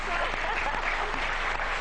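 Steady audience applause for a French singing group continues at even loudness, a thick wash of clapping with faint voices underneath.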